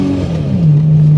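A Toyota Supra MK4 with a twin-turbo engine accelerating hard, a loud close engine tone rising in pitch as it pulls, with a steady roaring drone underneath.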